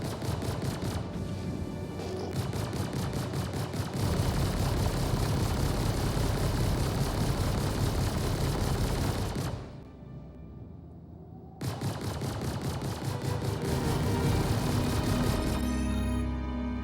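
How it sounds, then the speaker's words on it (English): Rapid automatic weapon fire shooting at small globe-shaped fuel tanks in the game Star Citizen, a dense continuous burst that cuts out briefly and then resumes. "It takes a few shots to kill them, they aren't very tanky"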